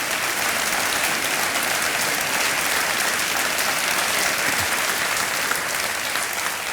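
Studio audience at the KBC television quiz show applauding, a dense, steady wash of clapping hands that stays loud and even throughout with no talk over it.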